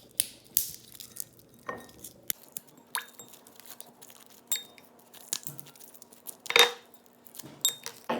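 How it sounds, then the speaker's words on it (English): Brittle cracking and crunching of a candy cane being snapped into small pieces, in scattered close-up bursts with quiet gaps between. "I just accidentally cracked this candy cane. So I'm just gonna put little pieces in it."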